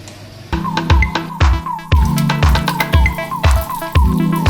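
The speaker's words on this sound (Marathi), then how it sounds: "सोलापूर महानगरपालिकेच्या नळाला येत असलेलं हे घाण पाणी पहा" Dirty municipal tap water runs and drips with a steady wet, bubbling splatter and rhythmic drops, close and fairly loud, with no voices.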